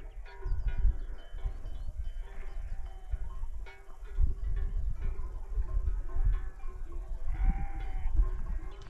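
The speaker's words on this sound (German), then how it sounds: "da oben machen die Schafe eine Ameisenstraße" Sheep bleat on a high mountain meadow in the Pyrenees, faint and distant calls scattered over steady wind and low rumbling outdoor noise.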